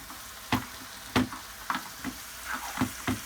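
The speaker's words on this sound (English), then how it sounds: "You hear the sizzle." Vegan curry sauce poured into a hot pan, sizzling in a series of sharp crackling bursts about every half second over a faint steady hiss, close and fairly quiet.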